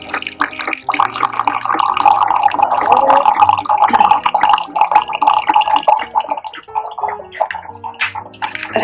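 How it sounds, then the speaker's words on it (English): A Keurig machine dispenses hot water into a cup for black tea, a loud continuous pouring and gurgling stream with bubbling and dripping that runs steadily throughout. "Then it asks me, dispense hot water."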